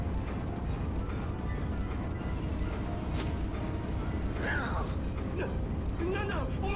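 A heavy door mechanism creaks and grinds open in the video game Tales of Vesperia, a long, dense rumbling texture with scraping, squealing creaks rising near the end.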